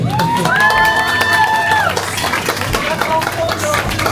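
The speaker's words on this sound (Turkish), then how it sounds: "Onlar için de küçük bir alkış alalım isterseniz." An audience claps and cheers with whoops at a celebration, mixed with shouting voices and a loud whistle tone over the lively crowd noise.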